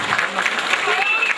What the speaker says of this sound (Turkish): şöyle yönetim kuruluna güçlü bir alkış rica ediyorum